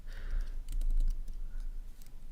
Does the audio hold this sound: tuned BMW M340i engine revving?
no